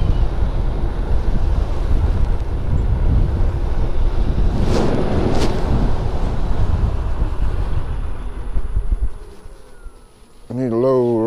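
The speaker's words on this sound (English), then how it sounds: "Going against the wind now" Loud, steady wind buffeting the microphone while riding an electric unicycle at about 35 on a rough highway, roaring for most of the ride before easing, with a short voice at the end.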